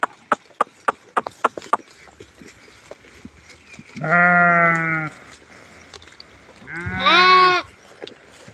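Goats and lambs at a rural livestock pen give two long, loud, close bleats, one in the middle and one near the end, after a run of sharp knocks and clatter at the start.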